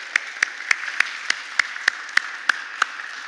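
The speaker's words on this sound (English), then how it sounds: "Let's give her a big round of applause." About a dozen evenly spaced single claps ring out in a church, sharp and regular against a faint hiss, like one or two people clapping slowly rather than a full congregation.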